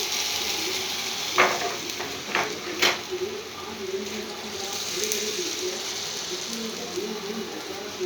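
Oil sizzles steadily in a hot pan while a vegetarian gola roti fries, a continuous close crackle broken by a few sharp clinks and scrapes early on.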